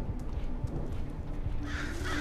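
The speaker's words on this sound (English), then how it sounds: "Oh, birds." Crows caw repeatedly over a quiet ambient backdrop in the Thief video game, several harsh calls spaced out across a couple of seconds, moderately close.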